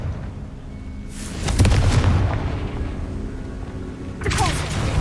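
The Confringo fire spell from Hogwarts Legacy on PS5 lands with a deep, rumbling boom that swells and lingers, followed a few seconds later by a second, sharper blast with crackling debris.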